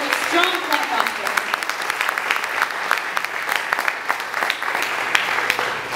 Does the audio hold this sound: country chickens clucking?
no